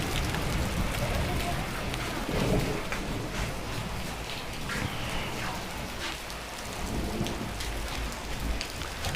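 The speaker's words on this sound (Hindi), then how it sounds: "ये यहाँ से भी ऐसी ऐसी बारिश आ रही है।" Heavy rain pours steadily during a hailstorm in a Uttarakhand village, a dense continuous hiss with occasional low thunder rumbles underneath, close and loud throughout.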